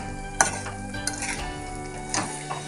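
Sundried rose apple pickle being stirred and mixed, with a few close scraping clinks of a spoon against the container over a soft, steady background hiss.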